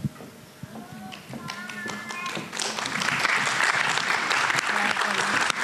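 An audience at a panel on women in architecture breaks into applause after a few scattered claps and some chatter, swelling into sustained, steady clapping that holds at a moderate level to the end.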